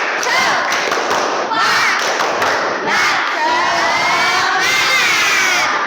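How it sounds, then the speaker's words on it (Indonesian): Schoolchildren in a classroom shout a spirit chant with rhythmic clapping, loud and close, with bursts of claps and massed young voices throughout. "Coba tepuk semangat."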